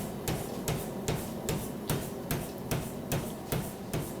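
A Fairbanks power hammer with large 6 by 8 inch combination dies forges pickup tongs, striking about eleven evenly spaced, heavy metallic blows over four seconds with a steady mechanical rhythm.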